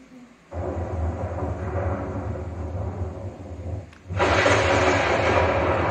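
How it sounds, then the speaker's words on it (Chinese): Thunder rolls during a heavy thunderstorm: a long, deep rumble close by, then a sudden louder, harsher crash that swells and keeps roaring to the end, with no talking. "这个确实是大雷雨啊。"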